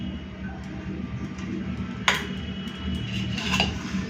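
Rice being served onto a plate with utensils in a hot home kitchen, soft scraping under a steady background hum, with two sharp metallic clinks near the middle and end.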